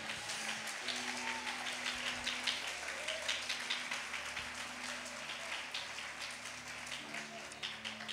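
Congregation applauding in a church, a steady wash of clapping lasting the whole stretch, with faint sustained tones and some voices mixed in underneath.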